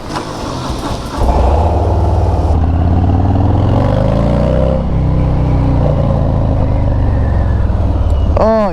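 A Harley-Davidson Sport Glide FLSB motorcycle engine fires up and rumbles loud and close, its deep throb rising and falling as it revs, with a brief higher whine near the end.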